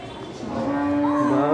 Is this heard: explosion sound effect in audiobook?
no